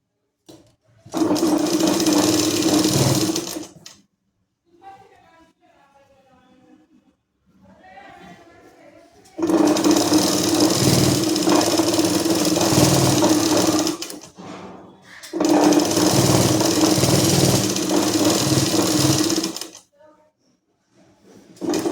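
A sewing machine stitches the pieces of a Patiala salwar together with a seam margin, running in three long, steady bursts. Brief spoken instructions fill the pauses between the bursts.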